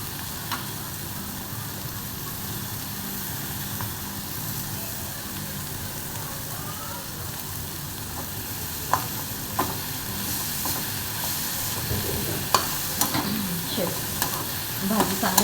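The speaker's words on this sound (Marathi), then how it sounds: "भाजी चांगली परतून घेऊया आपण" Chopped dill greens stir-fry in spiced oil, giving a constant close sizzle and hiss. Stirring utensil scrapes and clinks grow more frequent toward the end, and no one speaks.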